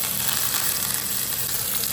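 Cumin seeds and curry leaves sizzle steadily and loudly in hot oil. The frying hiss stays continuous and close throughout.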